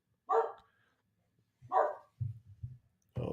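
A dog at home barks twice, loud and close, each sharp bark spaced about a second and a half apart, followed by low grumbling growls, with no one talking.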